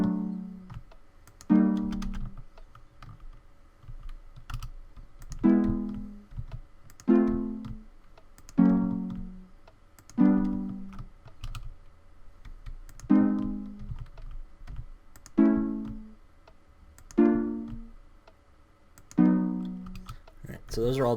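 Minecraft note blocks play a run of major chords one after another in the video game. Each chord is a short, bright, plucked strike that fades quickly, spaced about two seconds apart, with a faint background hum.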